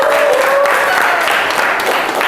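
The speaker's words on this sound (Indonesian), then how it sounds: "Oke, beri aplaus semuanya." A school audience applauds, a dense wash of clapping that sustains loudly throughout, with a faint voice briefly audible at the start.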